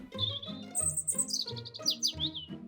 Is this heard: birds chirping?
yes